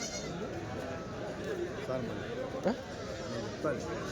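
Male goats bleat a few times in short bursts amid a noisy outdoor goat market in Kadiri, with people talking nearby.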